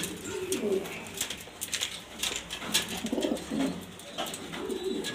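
German Beauty Homer pigeons, including an imported black hen, coo repeatedly in soft throaty rolls, close and clear, with faint background noise.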